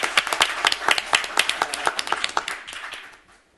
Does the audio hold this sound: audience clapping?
yes